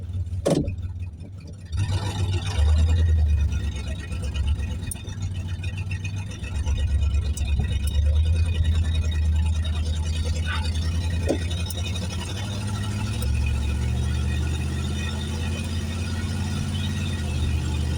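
A neglected 1973 Plymouth Fury III runs on a couple of gallons of gas while being driven, its engine a steady, close low drone with rumbling surges that carries on for the whole stretch without speech.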